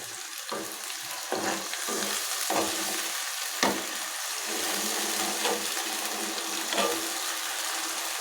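Ginger garlic paste fries in a pan on the stove, giving a continuous, fairly quiet sizzle. It is broken by several sharp stirring scrapes and clinks, and no one talks over it.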